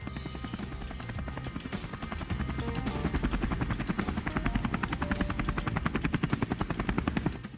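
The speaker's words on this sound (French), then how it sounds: "Ça alors, elle nous a envoyé un hélicoptère." A helicopter's rotor thumps steadily and grows louder and closer, its rhythmic chopping becoming more pronounced toward the end.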